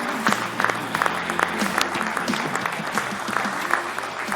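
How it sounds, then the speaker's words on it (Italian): Studio audience applauds a goalkeeper on an Italian sports TV show, steady moderate clapping with a few sharper claps standing out and faint voices underneath. "Bene, allora facciamo un applauso al nostro portiere qua."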